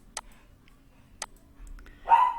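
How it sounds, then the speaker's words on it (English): A pet dog barks indoors, two short sharp barks about a second apart, fairly faint, followed by a brief whining or vocal sound. "that's my dog"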